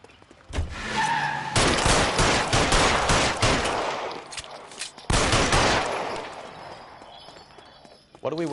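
Gunfire in the L.A. Noire video game during a robbery confronted by police: loud, dense bursts of shots with a car skidding, ending in a sharp pause and renewed fire, with shouted voices over it.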